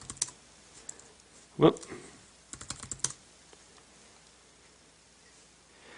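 Keys tapped on an Apple MacBook Air 11 (2011) laptop keyboard while logging in, a few short clicks in small bursts near the mic, with a brief spoken exclamation.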